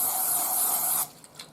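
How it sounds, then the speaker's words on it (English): Cooking spray hisses steadily from a can into a springform pan for about a second, close and fairly loud, then cuts off leaving a few faint clicks and small handling sounds. "I'm just going to spray out my Springform"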